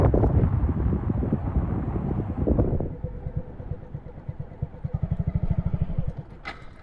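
A 2022 Honda Grom motorcycle engine revs under a little throttle on an incline, then settles into a rough, throbbing idle with rhythmic pulses, close by, with wind buffeting the microphone and no speech.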